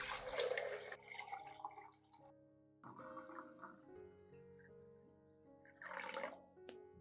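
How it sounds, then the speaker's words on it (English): One liter of room-temperature water pours in several bursts, splashing and gurgling into a glass container with a rising ring as it fills, with short quiet gaps between pours. "pour in 1 liter of clean water at room temperature"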